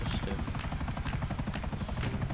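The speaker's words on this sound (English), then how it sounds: "We're gonna have to hit the checkpoint with that helicopter." A helicopter in GTA 5 Online gives a steady rotor thrum with a rapid pulsing chop, loud and continuous throughout, no speech over it.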